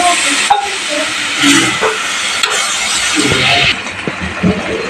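Water poured onto frying spices in a hot pan erupts into a loud, steady hiss of sizzling steam that holds for several seconds, then eases slightly near the end.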